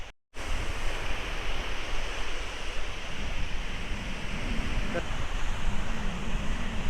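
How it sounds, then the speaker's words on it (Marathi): Small, gentle sea waves wash steadily onto the shore at Vengurla beach on the Konkan coast, a continuous, fairly loud broadband rush of surf and wind with no distinct breaks. "आणि जास्त काय मोठ्या लाटा नाही आहेत समुद्रकिनाऱ्यावर"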